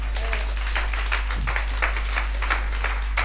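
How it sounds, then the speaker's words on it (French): A church congregation applauds during a sermon, steady rhythmic clapping from many hands filling the room at moderate loudness, with no voice on top. "Applaudissez Jésus-Christ, alléluia."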